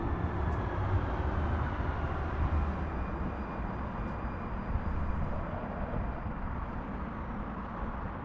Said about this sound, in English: I can hear the trains.